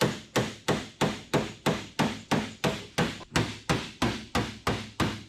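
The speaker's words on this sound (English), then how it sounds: "So let's get it off and start hammering on it." Steady hammer blows on a 1969 Chevelle trunk lid, about fourteen sharp metallic strikes at an even rhythm of roughly three per second, each ringing briefly before the next, close and alone.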